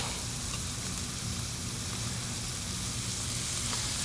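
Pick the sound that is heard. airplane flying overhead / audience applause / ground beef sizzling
ground beef sizzling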